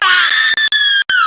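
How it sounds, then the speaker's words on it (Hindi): Several friends let out loud, high-pitched screams in a horror story sound effect, sustained and piercing, with brief breaks between bursts and no talking. "तभी सैंडी के कानों में उसके सारे दोस्तों की दिल दहला देने वाली चीखें सुनाई दी।"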